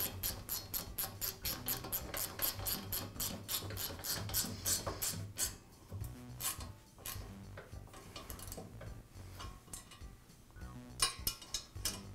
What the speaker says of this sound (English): And then tighten up the nuts.